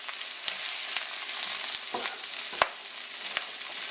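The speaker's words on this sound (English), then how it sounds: "I'm going to go in with my garlic, the peppers. And you can tell it is a high heat on there" Garlic and peppers fry in vegetable oil in a pan over high heat, a continuous sizzle scattered with sharp pops and crackles, moderately close and with no talking.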